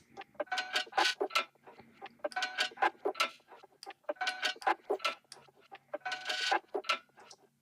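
A rhythmic percussion loop with a sweeping, whooshing filtered character repeats steadily, bursts of clicks and hits in a regular pattern.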